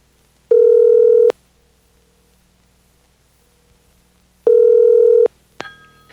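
Telephone tone heard while placing a call: two identical steady electronic beeps, each under a second long and about four seconds apart, clear and close over a quiet background, followed by a brief click.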